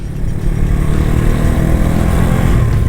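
An FKM Agimat 175 motorcycle with a push-rod engine rides at slow speed, giving a steady, loud, close low rumble with a vibrating throb throughout and no talking.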